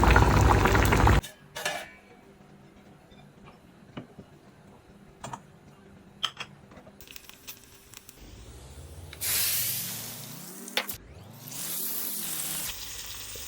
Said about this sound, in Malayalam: അപ്പോൾ ഇനിയിപ്പോൾ നമുക്ക് അതിൽ കടുവും കൂടെ താളിച്ചാൽ മതി.